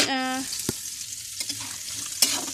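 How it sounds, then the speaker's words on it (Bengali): Onions, chillies and bay leaves fry in a pan with a steady close sizzle, broken by a few sharp stirring clatters and a brief tonal scrape at the start. "এখন আমি পেঁয়াজ মরিচ এবং তেজপাতা দিয়ে কিছুক্ষণ লাল লাল করে"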